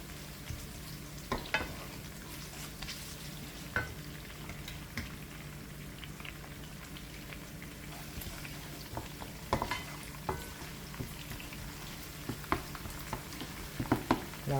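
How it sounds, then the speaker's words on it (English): Ackee and saltfish ingredients sautéing in a pan in a Jamaican kitchen, a quiet, steady sizzle with occasional soft pops and light stirring taps. "Allow that to saute."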